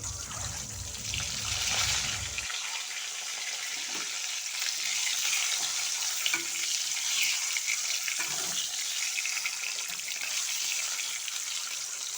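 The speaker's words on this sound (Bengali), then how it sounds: "তো দেখো ডিমটাকে আমি ঠিক এরকমভাবে ভেজে নিয়েছি" Oil sizzles and crackles steadily in a pan as eggs fry, a dense bright hiss running throughout with a few soft scrapes.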